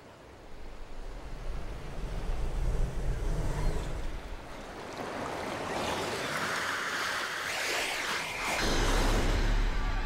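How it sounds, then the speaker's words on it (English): Ocean surf from the video game Chrono Cross: a steady wash of waves rolling and breaking for the whole stretch, swelling louder toward the end, with no talking over it. "Surge, the ocean is coming"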